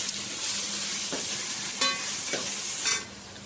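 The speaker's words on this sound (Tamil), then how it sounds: "இப்போ தக்காளி வதங்கட்டும்." Tomatoes sauté in a pan, giving a steady close sizzle with a few soft scraping stirs and clinks, with no talking.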